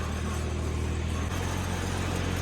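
Kentavr 244M tractor engine running steadily under load while ploughing with a two-furrow plough, a continuous low droning rumble that shifts down in pitch partway through, close and loud with no talk.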